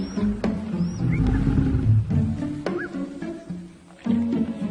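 Lioness and cub growling and snarling over food in the wild, close deep rumbling growls with sharper squeals and high cries from the cub, rising and falling in uneven bursts.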